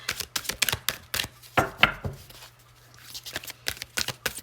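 A deck of tarot cards is shuffled by hand, giving quick bursts of crisp, close-up slapping and riffling snaps with short pauses between them.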